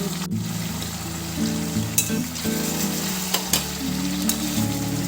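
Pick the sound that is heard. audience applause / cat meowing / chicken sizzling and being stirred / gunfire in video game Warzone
chicken sizzling and being stirred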